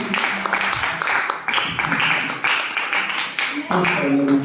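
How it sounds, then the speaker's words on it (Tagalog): A congregation at a Saturday prayer meeting claps together, a dense, steady patter of many hands with sharp taps throughout and voices mixed in underneath. "Sige nga po, palakpak tayo ng malakas sa Lord."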